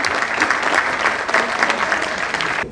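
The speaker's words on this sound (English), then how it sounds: "Please give a big round of applause." Sustained applause from an audience at a reception honoring the top 20 global women of excellence, a dense steady clapping wash throughout with no break.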